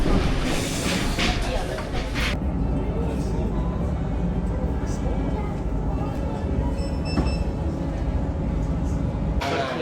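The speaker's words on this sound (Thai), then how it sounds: "ล้ววันนั้นเราจึงนั่งรถไฟไปต่อ" Swiss train riding on rails, a constant loud rumble and clatter of the carriage filling the whole stretch, with a brief bright squeal partway through.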